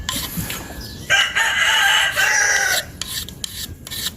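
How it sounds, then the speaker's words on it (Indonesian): A file rasping along the outer edge of a bonsai shear blade, with a burst of steady scraping strokes in the middle and shorter rasps toward the end, close and fairly loud. "yang dikikir itu bagian luar dari mata, yang sisi luarnya juga jangan diganggu"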